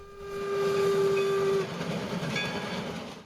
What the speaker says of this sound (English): the 440 hauled a mixed train on numerous run-bys in the scenic and historic region